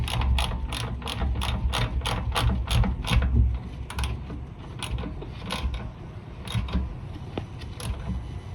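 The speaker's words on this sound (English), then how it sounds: "And tighten down the bolt." Ratchet clicks rapidly and rhythmically as a bolt is tightened on a 1988-1992 Toyota Corolla 4A-F engine, close and crisp in quick bursts with short pauses, then slower spaced clicks toward the end.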